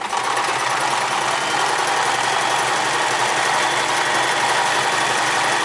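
A Sears Kenmore 158 series sewing machine runs steadily at speed stitching a wide, short zigzag, a dense continuous mechanical whir with rapid needle clatter, close and loud throughout with no talking.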